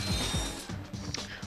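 Bolts being collected in Ratchet and Clank, a quick run of small metallic clinks and rattles with a mechanical, ratcheting texture, fairly faint and close, repeating over about a second and a half.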